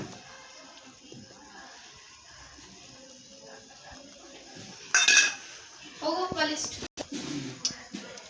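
Spice mixture tipped into a pot of biryani, heard as a short clatter of a utensil against the metal pot and a brief scraping stir, with someone talking over much of it.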